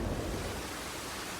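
Steady rain in Red Dead Redemption 2 falls as a dense, even wash of noise with a low rumbling undertone, continuous and fairly loud from start to finish.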